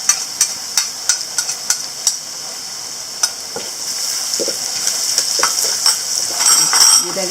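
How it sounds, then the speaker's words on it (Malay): Crushed garlic, three cloves, sizzles and fries in leftover anchovy oil in a pan, a steady crackling hiss with a few sharp clinks of a utensil stirring near the start, growing slightly louder toward the end. "Kita tumiskan bawang putih yang dah tumbuk tadi, 3 ulas bawang putih"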